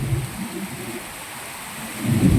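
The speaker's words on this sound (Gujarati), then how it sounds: "ગળળ ગળળ વીજળીના કળાકા ને ભડાકા" Low rumbling thunder swells at the start and again at the end of a monsoon night in Gujarat, with a steady hiss of rain running underneath throughout.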